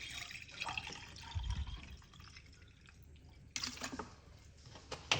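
Water is poured into a cup holding about a teaspoon of cloves in a kitchen, giving a close, uneven trickling and splashing with a couple of louder bursts of flow.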